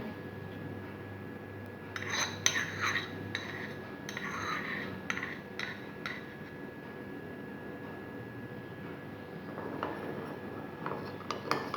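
A spoon stirs tomato juice, lemon juice and other ingredients in a small bowl for a homemade neck-darkness remedy, giving soft intermittent scraping and clinking bursts, close and quiet with no talking.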